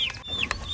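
Backyard chickens cluck and chirp at a feeder where fermented feed is being set out, several short calls close by and fairly quiet, with no talking.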